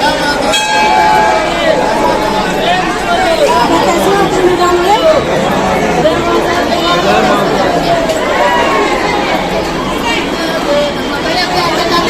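A dense crowd chatters and murmurs continuously at a packed Hindu temple during the Maha Ashtami festival, many voices blending into loud, steady babble with occasional bell-like tones.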